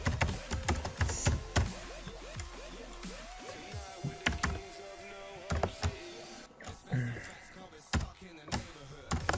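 Someone types C++ code on a computer keyboard: irregular bursts of crisp key clicks and heavier thumps at close range, spaced by short pauses, with no talking over them.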